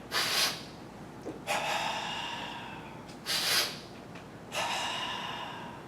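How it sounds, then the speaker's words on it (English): A person takes a sharp, audible deep breath in and lets it out in a long, airy exhale, done twice in a slow, even rhythm with no talking. "I'm going to take a deep breath. I will tense my body, and then I will release."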